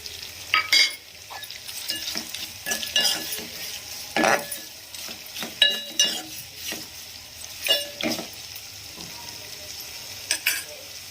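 Onions frying in a pan for a Telugu moong dal curry, with salt being added, give a steady sizzle broken by repeated scraping stirs and light clinks of a spoon against the pan, close and clear with no talk.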